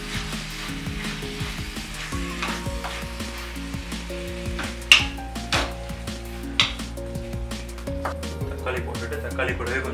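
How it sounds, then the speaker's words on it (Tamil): Chicken chukka sizzles and fries in a pan as tomatoes go in, a steady crackle with clinks of a utensil against the pan and a few sharper scrapes, with talk over it. "இந்த டைமில் தக்காளி போட்டுக்கலாம்."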